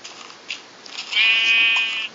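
A sheep in the Minecraft video game bleats in one clear, drawn-out call, preceded by a couple of short softer bleats, close and loud with no talking.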